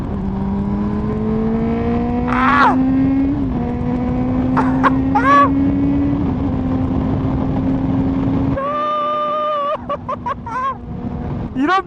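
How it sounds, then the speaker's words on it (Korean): A 2019 Honda CB400SB motorcycle with VTEC valve switching, its four-cylinder exhaust holding a steady drone that climbs in pitch, then changes character in the final seconds with rising and falling revs, loud and close with no talking. "이렇게 맛있는 배기음이 함께하고 있죠."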